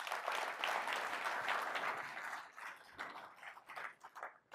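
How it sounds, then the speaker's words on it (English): An audience at a live business event applauds, a dense wash of clapping that holds strong for a couple of seconds and then thins into scattered, fading claps. "Round of applause for Detroit."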